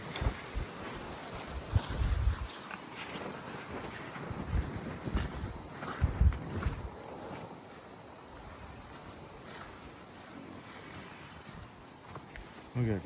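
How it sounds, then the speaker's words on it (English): Strong wind of about 30 miles an hour gusts through an orchard during plum picking, with low buffeting bursts on the microphone that rise and fall while someone talks. "wind's blowing 30 miles an hour."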